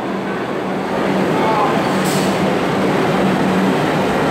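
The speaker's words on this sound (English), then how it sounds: "Here comes Bronx-bound one local train right now." An R62A Bronx-bound 1 local subway train rumbles into Cortlandt Street station with a loud, steady roar and faint rail clatter, a brief hiss partway through, close and continuous.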